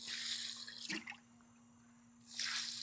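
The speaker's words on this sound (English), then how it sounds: "I like to add a little bit of water at a time, just because I don't want it too wet." Water trickles and drips into a wheelbarrow of concrete mix for stepping stones, added a little at a time; soft pouring and splashing come in two bursts at the start and end, with a steady low hum and no talk.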